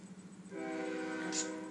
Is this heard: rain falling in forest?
no